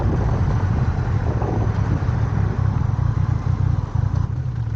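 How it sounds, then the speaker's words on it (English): Steady engine drone of a 2023 Honda Rebel 1100 DCT motorcycle while riding, with wind buffeting the microphone throughout; loud and continuous, no talking. "So Tigger makes the drive on the motorcycle"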